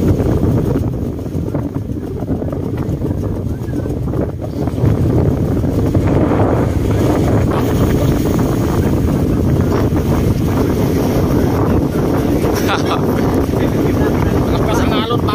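Strong wind buffets the microphone aboard a fishing boat at sea in rough season, with a steady broadband roar of big waves and rushing water throughout, loud and close, and a voice speaking briefly over it.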